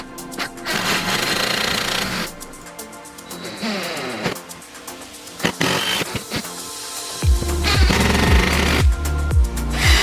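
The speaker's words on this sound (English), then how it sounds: "we're just going to use a drill it in, first one down, and then same process for all 4 sides" A power drill drives long screws into wood while building a bee hotel, in several short whirring bursts of varying length separated by brief pauses.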